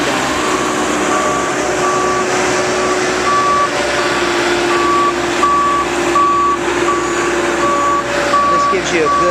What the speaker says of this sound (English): There's also a couple of in-dump trucks that are delivering material as well.